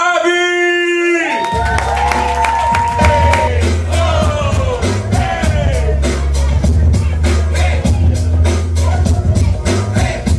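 A crowd at a café poetry show bursts into loud applause and cheering, steady clapping with whoops and yells that continue strongly throughout.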